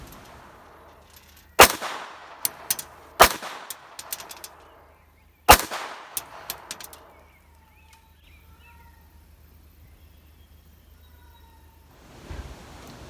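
Shots from a Mossberg 930 SPX shotgun striking sandstone: three loud, sharp blasts spaced about two seconds apart, each trailed by rattling impacts and debris, then quiet outdoor ambience with faint bird calls.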